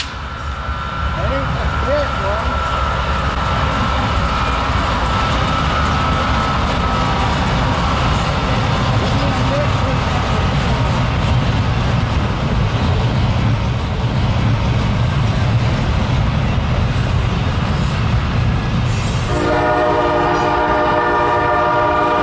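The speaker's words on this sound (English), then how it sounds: "this is an intermodal that's going towards Bedford Park, Illinois, or North Baltimore, Ohio" An intermodal freight train led by a wide-cab AC4400 locomotive rumbles loudly and steadily close by. Near the end its horn sounds with a sustained chord.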